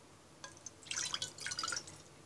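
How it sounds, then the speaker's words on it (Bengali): About a cup of water is poured into a kadhai to start mango morobba syrup, a quiet, short trickle and splash of dripping liquid that starts softly and lasts under two seconds. "এবার একটি কড়াইতে আমি 1 কাপ পরিমাণ পানি ঢেলে দিব।"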